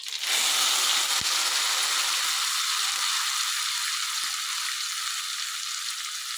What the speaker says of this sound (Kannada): ಈಗ ನಾವು ರುಬ್ಬಿಟ್ಕೊಂಡಿರೋ ಮಸಾಲೆ ಹಾಕ್ತಾಯಿದ್ದೀನಿ